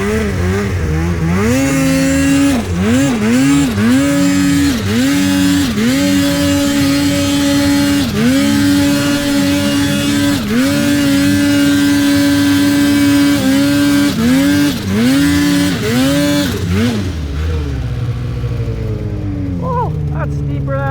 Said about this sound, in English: we're gonna chase some good snow and friggin' ride our snowmobiles